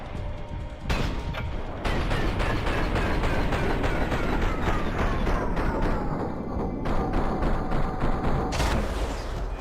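Dense gunfire from the video game Max Payne 3, a continuous barrage of loud overlapping shots and booms that carries on almost the whole way through without a pause.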